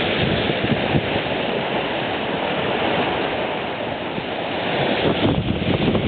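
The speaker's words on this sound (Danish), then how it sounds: "Det blæser 14 knop, 7-8 meter per sekund." Wind at 14 knots on a sailing yacht moving under sail, a steady, loud broadband rush of wind and water filling the whole stretch without any talk.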